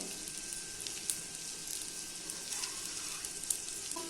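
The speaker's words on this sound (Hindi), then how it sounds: "अभी इसको दूसरी साइड से भी 2 मिनट तक मीडियम फ्लेम पे फ्राई कर लेना है।" Eggs fry on a tawa over a medium flame, giving a soft, steady sizzle throughout with a few faint crackles and pops.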